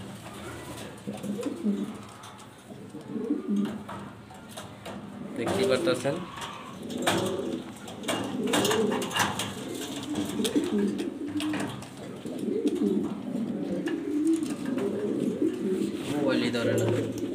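A large Maltese female pigeon coos in repeated throaty, rolling phrases close by, while someone talks over and between the calls.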